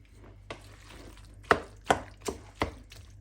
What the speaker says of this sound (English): Still got a bit minced up, so I'm just giving it a good stirring.